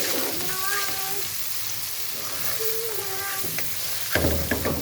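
Shrimp frying in a pan with onions, giving a steady close sizzle, with a voice speaking briefly over it and a louder clatter of stirring near the end.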